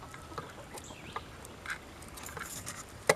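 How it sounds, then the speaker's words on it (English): Farm chickens cluck softly in the morning, with scattered short clucks and calls over a quiet outdoor background and one louder call at the end. "The chickens are happy."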